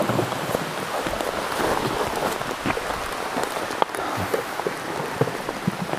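Hard rain falls steadily while a Honda Goldwing motorcycle rides the Blue Ridge Parkway, a dense, constant hiss of drops with scattered sharper spatters and no voices.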